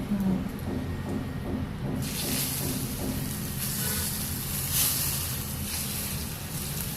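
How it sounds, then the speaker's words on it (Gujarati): Steady frying hiss and crackle of asafoetida and curry leaves tempering in hot oil, close and continuous, with faint background talk at the start. "વઘાર મસ્ત થાય"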